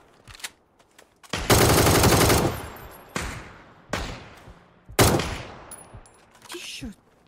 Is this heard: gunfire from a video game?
yes